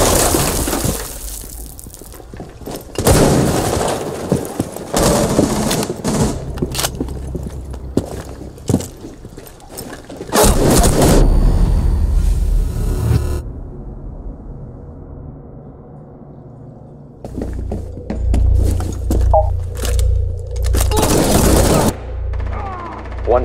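Gunfire in Rainbow Six Siege: loud bursts of rapid shots and impacts, with a gap of quieter low rumble midway and more shooting near the end, over busy in-game sounds.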